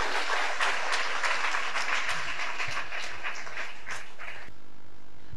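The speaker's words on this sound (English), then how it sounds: "Clap for Jesus Christ." A church congregation claps for Jesus Christ, a brisk burst of many hands clapping together that thins out and stops after about four and a half seconds, leaving a quiet room.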